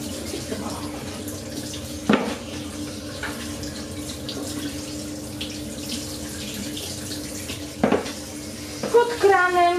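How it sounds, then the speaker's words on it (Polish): Warm tap water runs steadily over beef tripe in a colander at a kitchen sink, a continuous rushing stream broken by a couple of sharp clanks of metal against the sink. "Pod kranem na druślaku przelewam je pod ciepłą wodą."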